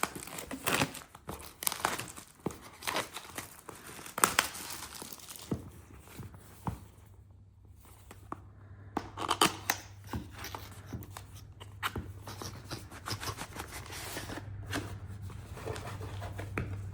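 Packaging for a DJI Mic Mini crinkles and rustles up close as it is unboxed, with irregular crackles, tearing and handling noises throughout and a low steady hum in the second half; no talking.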